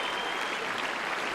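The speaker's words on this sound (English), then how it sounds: "she'll get the warm applause from the local crowd" A local tennis crowd gives warm applause after a won set, a brief, dense, even patter of clapping with no voices.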